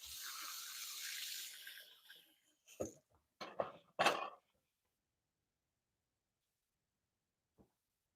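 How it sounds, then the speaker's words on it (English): Hands are rinsed under a running kitchen tap, a steady splashing stream for about two seconds followed by a few brief bursts of water and handling noise, then near silence. "Let me wash my hands."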